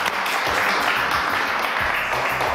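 Studio audience applauding a departing guest named Vincha on a French entertainment news show, a dense steady wash of clapping held at a constant level throughout, with no gaps.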